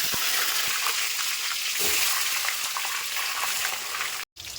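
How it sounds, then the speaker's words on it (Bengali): Boiled cabbage hits hot mustard oil in a wok and fries with a loud, continuous hissing crackle close up, broken by a brief dropout just before the end. "কড়াইতে বাঁধাকপিগুলো দিয়ে দিচ্ছি"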